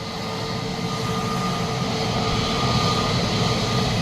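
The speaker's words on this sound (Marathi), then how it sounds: "त्यांचे पंखे बघा कसे फिरतात आणि पंखे किती मोठे आहेत ते पण बघा।" Airplane propeller engines drone steadily and loudly throughout, a constant rumbling roar with a whining tonal hum over it.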